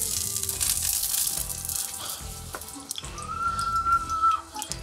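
Lard sizzling in a hot pan on a grill heated to 200 degrees, a steady close frying crackle with a brief whistling tone rising over it near the end.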